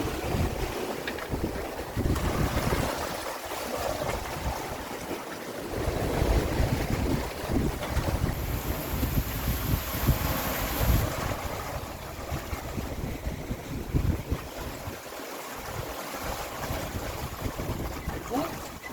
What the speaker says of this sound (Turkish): Yol gidiyor tekne.